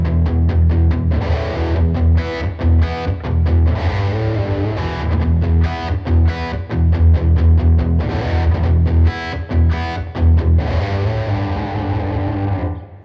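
A fast, bluesy distorted electric guitar riff, loud and continuous for about thirteen seconds, with choppy rhythmic accents and ringing low notes and no talking over it.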